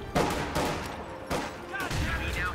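Bursts of machine gun and rifle fire crackle in Company of Heroes 2 gameplay, several sharp volleys in quick succession amid battle noise.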